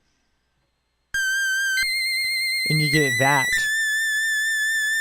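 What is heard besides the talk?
high-pitched FM synthesizer squeal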